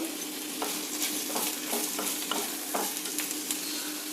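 Onions and garlic fry in oil in a pan for a traditional Malenadu ivy gourd gojju, making a continuous bright sizzle with soft, evenly spaced stirring scrapes and no voices.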